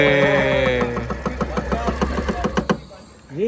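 A car engine cranks and catches, then settles into a rhythmic, knocking idle with evenly spaced pulses, loud and close, with a brief voice at the very end.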